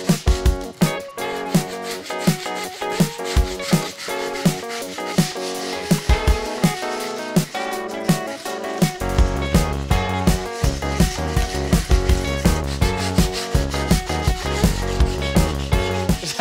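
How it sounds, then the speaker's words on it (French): Hand sanding of pallet wood with repeated abrasive strokes, rubbing in an uneven rhythm that grows denser and louder partway through, close and without talk. "sur mon bois de palette, j'insiste un peu sur le ponçage"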